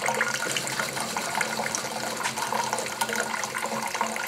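Cooling water rushes steadily through an antique Essex hot air Stirling engine as it preheats, a continuous close, even hiss and gurgle with no pauses.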